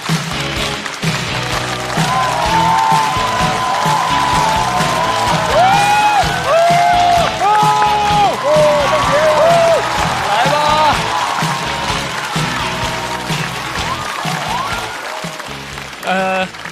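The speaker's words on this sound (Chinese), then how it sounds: "掌声有请李梦洁。" A large audience at a stand-up comedy show bursts into loud sustained applause and cheering with whoops as a comedian is introduced, a host's voice carrying over the crowd and music underneath.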